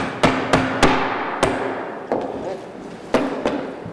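Nails being hammered into wood, a series of sharp, loud knocks at uneven intervals, some in quick pairs, each ringing briefly before the next strike.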